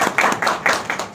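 Audience applause at a retirement party for an IAS officer, a short burst of crowd clapping close by and fairly loud, rising and falling in quick uneven surges with no talk over it.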